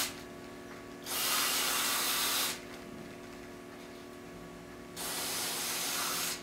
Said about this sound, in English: using that special spray I will simply clean the sensor.